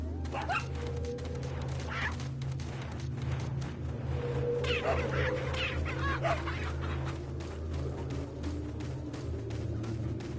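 Dog in the video game Resident Evil 4, a few sharp barks and yips over a steady low ambient game drone.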